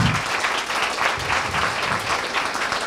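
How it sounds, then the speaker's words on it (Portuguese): A conference audience gives a round of applause, with dense, lively clapping that holds steady at a moderate volume for the whole stretch. "Bruno Gachaguen, que merece uma salva de palmas."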